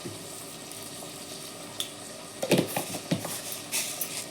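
Fenugreek seeds hit hot oil with a sudden crackling sizzle after a quiet start, spitting and popping in short bursts close by.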